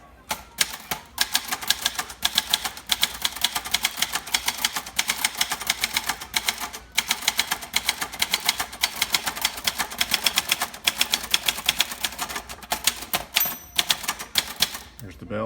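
Typing on a 1963 Signature 300 (Brother JP1) manual typewriter with a soft platen and a single sheet: steady, fast clatter of key strikes in close succession, continuous and near, with a faint voice at times.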